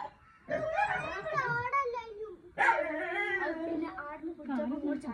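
A dog that has fallen into a well gives drawn-out whimpering, howl-like cries in two long bursts, with people talking nearby during the rescue.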